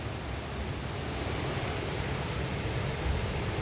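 Heavy rain pours onto a roof in a steady, dense roar with no breaks, loud and close, hiding any other sound.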